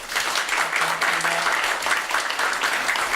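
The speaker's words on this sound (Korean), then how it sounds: "오늘 좋은 강의 이렇게 해주신 우리 정 회장님께 다시 한번 심찬 박수 한번." Audience applause after a lecture at a monthly Wednesday Mass gathering in Korea, a steady wash of many hands clapping that fills the clip, with a brief faint voice underneath.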